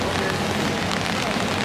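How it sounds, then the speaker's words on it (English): Pouring rain in Italy, a dense steady hiss of heavy drops filling the whole moment at constant loudness with no pauses. "Pouring rain."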